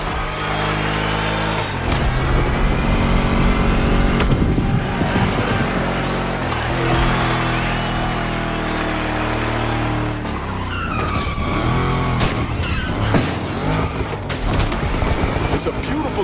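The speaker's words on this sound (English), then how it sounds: "Let's hear these engines." Car engines roar and tires squeal in the driving game The Crew Motorfest in Oahu, Hawaii, loud and continuous with shifting revs, skids and bursts, with game voices or talk mixed in.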